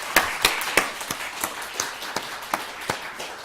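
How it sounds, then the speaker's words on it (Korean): Church congregation giving glory with applause during a Sunday sermon, heard as a handful of distinct, spaced claps in a reverberant sanctuary, moderately loud and fairly sparse, with no talking over them. "오늘 또 이런 은혜를 주신 하나님 앞에 정말 감사함으로 박수로 영광 돌리겠습니다."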